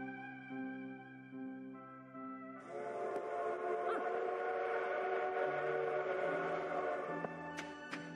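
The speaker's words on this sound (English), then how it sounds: "Train's coming." A train rolls past in a farming video game, its sustained whistle tones holding over a steady rumbling clatter of the cars, loud throughout the passage.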